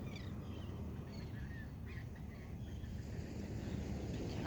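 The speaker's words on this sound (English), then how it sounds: "the sound of the gentle ocean waves going in and out, the sound of the birds around you." Scattered bird calls at a beach, faint and intermittent, over a steady low wash of gentle ocean waves.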